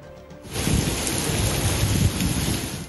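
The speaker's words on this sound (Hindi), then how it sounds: "सिर्फ 15 मिनट की बारिश से शहर की कई शाहराहों पर पानी ही पानी था।" Heavy rain pours down in a sudden loud roar, with a deep rumble of thunder beneath it, during a brief storm that flooded city streets.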